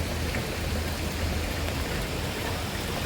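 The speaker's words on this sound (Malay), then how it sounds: "Hari ni hujan lah sikit, tapi tak apalah." Rain falls steadily as a dense, even hiss of drops, outdoors among tulip gardens in Istanbul, continuous and fairly close with no other distinct sounds.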